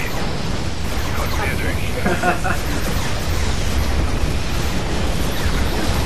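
Explosions from the real-time strategy game Command & Conquer: Red Alert 3, played on the War Arena map, form a dense, steady rumbling roar of blasts and battle noise that fills the whole stretch without a break.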